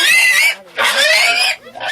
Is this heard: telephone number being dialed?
no